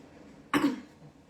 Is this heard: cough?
yes